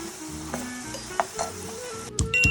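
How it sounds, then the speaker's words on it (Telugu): Potatoes fry in oil in a kadai for sago upma, giving a steady close sizzle with a few scraping stirs and clinks near the end. "కడాయిలో వేసుకొని ఫ్రై చేసుకోవాలండి."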